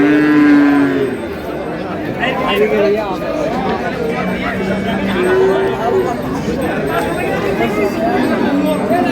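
Cows and calves mooing among a bustling crowd at a village cattle market in Dinajpur, several drawn-out lows at middle distance mixed with steady chatter and haggling voices.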